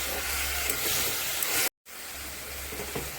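Mustard paste stirred into a hot pan of frying potatoes and stalks, giving a steady close sizzle and hiss that cuts out briefly, then resumes.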